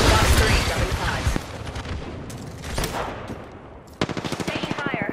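Gunfire in a video game: dense, loud bursts of automatic fire, close up, ending in a rapid rhythmic string of shots, with shouted voices mixed in.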